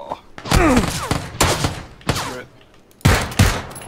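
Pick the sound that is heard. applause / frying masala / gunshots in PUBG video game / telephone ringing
gunshots in PUBG video game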